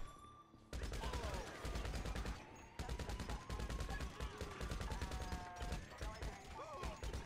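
Sustained automatic gunfire in the video game GTA 5, loud rapid bursts of shots with brief gaps and some tonal game sounds mixed in.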